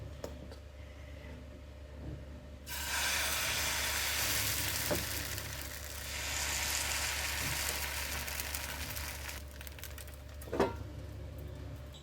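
Dosa sizzles steadily in a pan with very little oil. Frying hiss surges in suddenly and holds loud and close, broken by a few sharp clinks of a utensil, with no voices.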